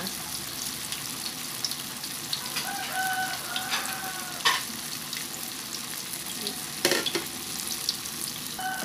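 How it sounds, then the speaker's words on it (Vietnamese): Tofu skin frying in hot oil over high heat for a vegetarian dish gives a continuous close sizzle and crackle, with occasional sharper pops standing out. "các bạn để lửa lớn á thì mình chiên nó rất là mau nha các bạn"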